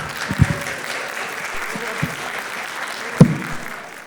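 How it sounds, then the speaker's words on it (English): An audience at a community leaders' mental health conference claps in a sparse, moderate round of applause, with a few louder individual claps standing out over the steady patter. "please join me in a round of applause"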